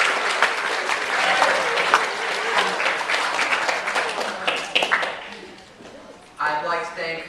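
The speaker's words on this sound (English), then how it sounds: "So a round of applause to your staff." Audience applause at a conference closing ceremony, dense and sustained for several seconds before tapering off, then a speaker's voice begins near the end.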